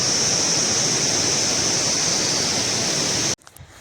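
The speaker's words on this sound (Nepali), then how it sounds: "ओ पर हेरौँ कस्तो राम्रो झरना छ भने यो साह्रै राम्रो ठाउँ रहेछ" A hillside waterfall on the trail to Timbung Pokhari in Panchthar, Nepal, gives a steady, loud, close rush of falling water for several seconds before it cuts off abruptly.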